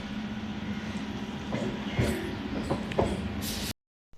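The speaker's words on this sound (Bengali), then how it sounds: "শেষমেশ কিন্তু আমার ট্রেনটা চালু হয়ে গেল দেখো ট্রেন ছেড়ে দিয়েছে" A train rumbles and rattles steadily along the rails with occasional metallic clanks, heard from inside; no one speaks, and the sound cuts off abruptly at the end.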